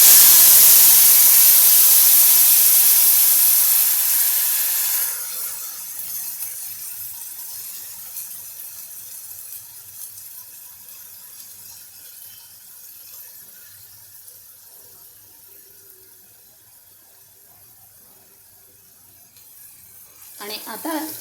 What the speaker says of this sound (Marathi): आता हे वाटण जे आहे हे वाटण आपण यात टाकणार आहोत